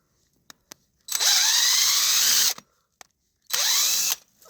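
A power drill whines loudly in two bursts, drilling into a black walnut tree trunk, the first longer, with a few sharp clicks between them, close by.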